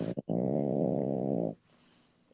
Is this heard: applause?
no